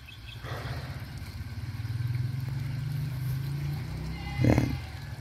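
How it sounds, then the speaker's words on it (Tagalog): An electric water pump engine runs in a field, a steady low throbbing drone with a faint clatter near the end. "Papatayin na natin yung makina natin, electric pump, dahil tapos na."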